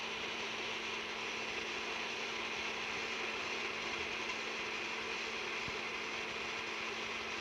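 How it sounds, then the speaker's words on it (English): An electric mixer on low speed beats cake batter in a bowl, a steady continuous whirring hum with a faint tonal whine, unchanging throughout. "Beat vigorously 300 strokes by hand for 2 minutes on low with an electric mixer"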